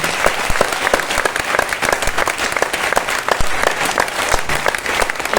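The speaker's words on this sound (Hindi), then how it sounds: "इतनी तालियों से नहीं होगी साहब।" An audience at a Hindi poetry recital of heroic verse applauds loudly and continuously, a dense close wash of many hands clapping with scattered sharper claps throughout.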